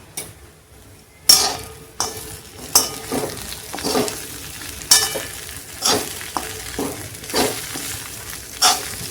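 Poha is stirred and mixed in a pan with salt and sugar, giving repeated sharp spatula scrapes and light metallic clinks over a soft sizzle, in an uneven rhythm with no talking.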